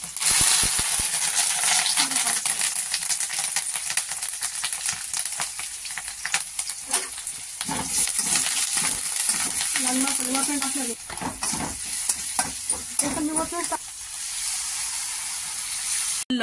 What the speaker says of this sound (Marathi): जिरे टाकू थोडीशी. तडतड वाजले ते डायरेक्ट तडतड.